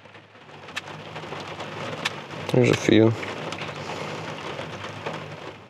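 Steady rain falls on a rainy morning outdoors, a constant hiss throughout, with a brief spoken phrase partway through.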